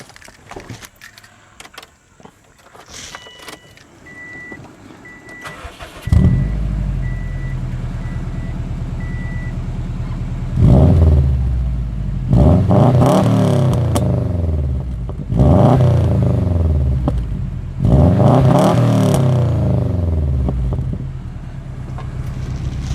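A Subaru WRX engine cranks and fires up after some clatter, then revs loudly in four strong bursts, settling to a deep idle between each.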